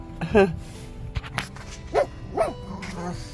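A pug gives a few short barks and whiny yips at close range in a home kitchen, spaced out between quiet moments while people talk nearby.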